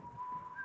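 A person whistles a thin, faint, steady tone that rises briefly in pitch near the end, lasting under a second.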